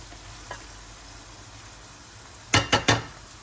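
Chicken and onion frying in a pan for an Algerian chicken dish, a low steady sizzle with a faint clink early on, then three sharp loud scrapes or stirs close together near the end.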